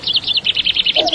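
Small bird chirps in a quick, bright run of about a dozen evenly spaced tweets, close and clear, with a brief lower note at the end.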